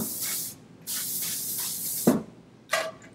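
Hairspray is sprayed onto a pony's styled hair in three to four short, sharp hissing bursts separated by brief pauses, with light handling noises between sprays.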